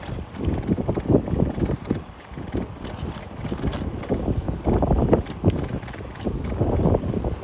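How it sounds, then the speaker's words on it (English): Strong gusting wind roaring through trees beside a bike route near Floyd Bennett Field and Jamaica Bay in New York City, a loud, continuous broadband rush with surges, heard alone without talk. "This wind has really ramped up."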